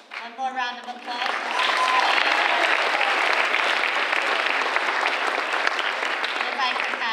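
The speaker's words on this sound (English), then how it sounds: "One more round of applause." A school audience at a culminating ceremony bursts into sustained, full-room applause for the sixth grade, following a brief stretch of speech at the start, then steady dense clapping holding loud to the end.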